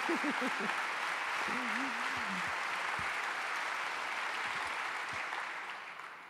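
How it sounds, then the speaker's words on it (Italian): Audience applause fills a meeting hall, a steady wash of clapping that holds evenly and fades out at the end, while a voice speaks briefly near the start. "sembra che questo applauso esprima bene"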